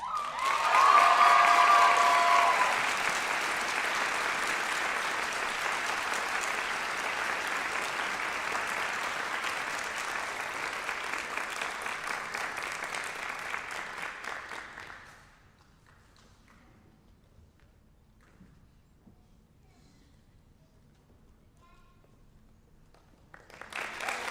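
A crowd applauds a nursing award recipient at a nurses' pinning ceremony, a loud steady wash of clapping that starts strong, holds for about fifteen seconds, then stops abruptly, leaving near silence before a fresh burst begins at the end.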